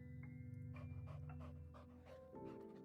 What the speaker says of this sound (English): The little dog rushed to her banquet, swept away the bread with her nose, and started eating the bologna.